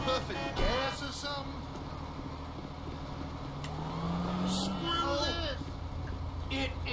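A tractor drives in the video game GTA V, a steady low engine rumble with a rising and falling whine, while someone talks excitedly over it and other game sounds briefly chime.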